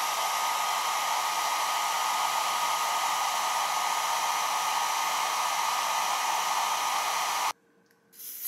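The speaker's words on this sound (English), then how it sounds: "before I turn the blow dryer on" A blow dryer roars in a steady, loud, close whoosh while drying a lace hair install, then cuts out abruptly near the end before starting to rise again.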